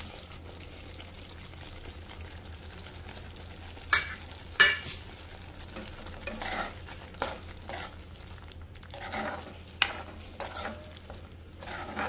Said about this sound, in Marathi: कोळंबी टाकते आता ह्याच्यात.